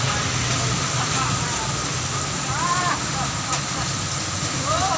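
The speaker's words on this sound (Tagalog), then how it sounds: "malakas pa rin ang ulan dito sa Limay, Bataan" Heavy rain in Limay, Bataan, hisses as a dense, continuous wash, with faint passing vehicle tones and occasional voices underneath.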